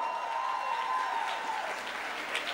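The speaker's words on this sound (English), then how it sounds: "A round of applause for her." An audience at a talk on the art and science of happiness gives a round of applause, a dense steady wash of clapping that carries on evenly throughout, moderately loud and with no one speaking over it.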